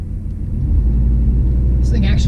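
A turbocharged LS-swapped Cadillac Escalade pulls hard under acceleration, its engine a loud, deep, continuous rumble that builds and holds close up, with a brief higher hiss near the end.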